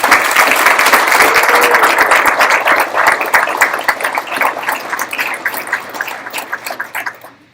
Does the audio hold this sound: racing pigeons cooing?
no